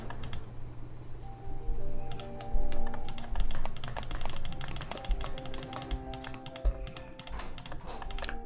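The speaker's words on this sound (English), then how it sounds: "Big set pieces mean a lot of clicking." Rapid mouse clicks rattle away in irregular bursts while playing Nancy Drew: Curse of Blackmoor Manor, sharp and close, sitting over a soft sustained musical bed with no talking.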